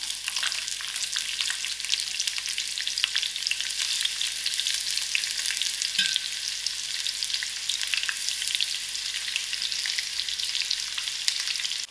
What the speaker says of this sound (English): To the same oil, I'm going to add in my onions.